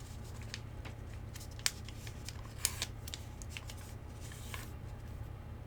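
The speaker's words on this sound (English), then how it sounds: "we're going to fold a square sheet of paper in half like this" A square sheet of origami paper is folded in half, giving faint crisp crinkles and a few sharp creasing snaps over quiet room tone, with no talking.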